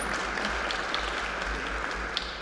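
An audience at a book fair event at the FIL Minería 2019 marathon claps in a dense, steady round of applause that holds at an even level throughout.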